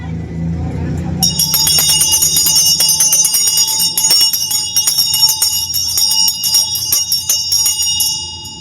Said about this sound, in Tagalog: maganda ang tining ng ating bell kay PRRD